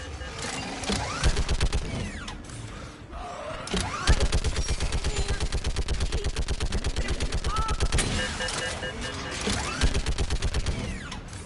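Loud, rapid automatic gunfire in the sci-fi shooter Mass Effect 3, sustained bursts of closely spaced shots with brief lulls, mixed with game effects and a faint spoken voice.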